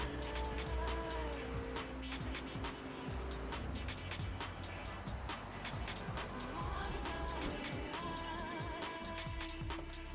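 A car in Grand Theft Auto 3 Definitive Edition skids under the handbrake, its tires squealing over a steady engine drone with repeated clicks and game effects, while someone talks.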